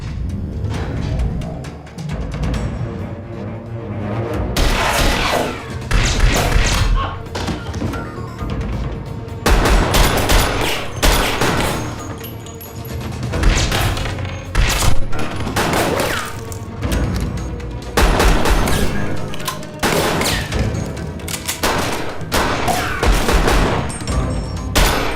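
Dense, loud gunfire fills the whole stretch, with rapid overlapping shots and heavy booming bursts that surge and drop without letup, like a sustained firefight close by.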